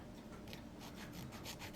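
A hand file rasps a burr off a small model ship part in short back-and-forth strokes, faint and close, with a rhythmic scratchy texture and no talking.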